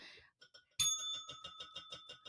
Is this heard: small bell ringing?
yes